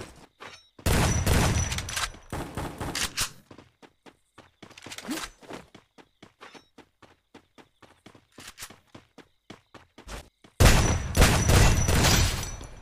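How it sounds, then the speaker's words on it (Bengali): SPAS12 shotgun fire in the Free Fire video game: loud broadband blasts come in bursts, separated by a quick series of sharp, clicking shots and mechanical clatter. "কি স্পাস মশাই, তুমি যদি এরকম ফায়ার করো মানুষ তোমাকে ইউজ করবে কেন"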